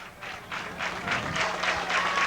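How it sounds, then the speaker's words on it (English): A football crowd at a 1997 Nettleton vs Paragould high school game cheers and claps in a rolling burst of applause, moderately loud and at a distance, with no commentary over it. "The Ram crowd coming alive."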